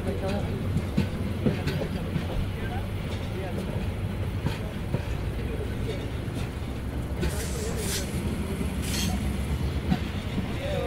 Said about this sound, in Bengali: এগারোটা 10 আমাদের ট্রেন ছেড়ে গেল কুমিল্লা রেলওয়ে স্টেশন।